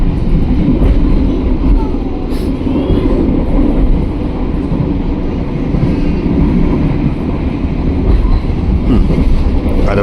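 Continuous low rumble and rattle from inside a passenger train rolling straight through a station without stopping, with faint clicks of the rails and occasional higher squeaks, no talk.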